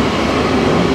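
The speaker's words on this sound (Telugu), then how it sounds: "సో ఈ ట్రైన్ చాలా పాత ట్రైన్ అండి" An old, manually operated underground train in Germany gives off a loud, steady rumble of wheels and carriage noise, heard from on board with no talking.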